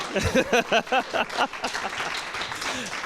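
Audience applause after a poetry reading at a live show. A voice comes first, then a steady wash of clapping fills the second half at moderate volume.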